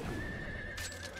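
A horse whinnies sharply over a steady hum in the video game Wo Long: Fallen Dynasty, with a brief clatter of hooves, in a short burst.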